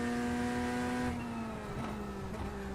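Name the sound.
race car engine in iRacing video game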